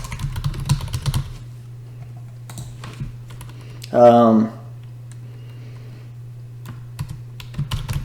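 Someone types on a computer keyboard, producing sparse, close keystrokes at the start and end over a steady low electrical hum. A brief voice-like sound breaks in midway.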